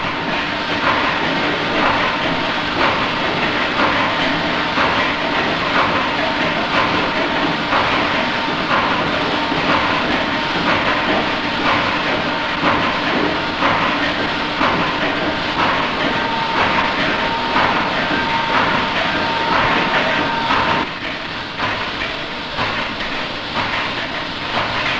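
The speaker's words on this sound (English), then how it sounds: "pulleys which operate a hydraulic pump which pumps up the steam plate press" Victorian line shafting and pulleys drive a hydraulic pump for a steam plate press in a tobacco and snuff works, giving a steady, loud mechanical rumble with repetitive clattering beats throughout, easing slightly near the end.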